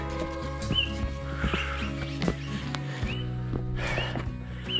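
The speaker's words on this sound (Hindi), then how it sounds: "क्या आप सुन पा रहे हैं चिड़ियों की चहचहाट," Scattered bird chirps and tweets ring out at dawn over a low steady hum on a Himalayan mountain trail, a few short calls spaced apart at moderate distance.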